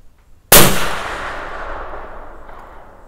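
A single .280 Ackley rifle shot firing a 145-grain Barnes LRX load cracks sharply and loudly, then a long reverberating echo rolls away and fades over a few seconds with no talking.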